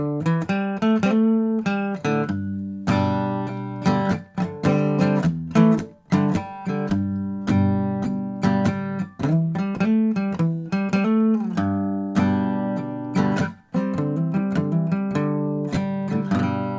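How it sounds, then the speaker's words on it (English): Guitar plays rhythmic chord stabs with quick single-note fills between them, steady and loud, with no voices. "do some kind of rhythmic thing with chords and then jam in between the chords"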